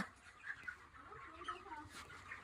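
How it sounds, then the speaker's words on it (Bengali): Chickens at a poultry farm holding about fourteen hundred birds cluck softly while they settle and feed, a faint, scattered murmur of fowl calls with no voices. "চৌদ্দশো পাখি ঢুকেছে এই সব বসছে সব মুরগিগুলো খাচ্ছে"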